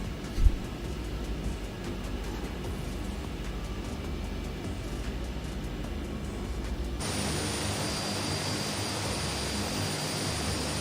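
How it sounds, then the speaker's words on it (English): Light aircraft engine droning steadily inside the cabin on a scenic flight over Victoria, Australia, a constant loud roar that shifts tone partway through, with a brief knock near the start. "The engine sounds might be a bit noisy."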